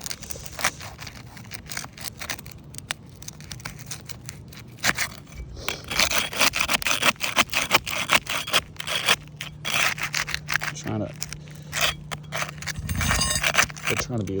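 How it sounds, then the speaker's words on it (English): A small putty knife scrapes at old gritty sealant in short, rough strokes, quiet at first and then louder, busier scraping bursts from the middle onward, with a low steady hum underneath and some talk. "Got this little putty knife. Man, it's still ripping through it up here."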